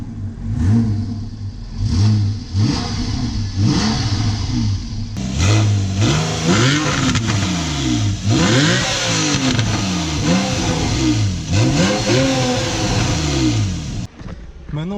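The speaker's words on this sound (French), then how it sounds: "Pied sur le frein et c'est Mamzian, le bruit du flat 6." A Porsche 911 (991) Carrera S flat-six with its exhaust valves open, loud and close, idling and then blipped through a series of sharp, rising and falling revs, the engine note dominating throughout.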